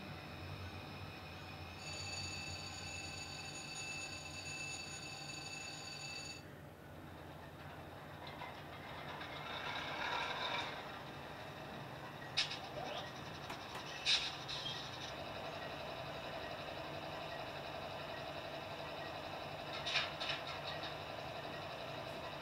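An Atlas Dash 8-40CW model locomotive runs along an indoor layout, a faint steady motor whir and wheel rumble with a thin high whine early on and occasional light clicks.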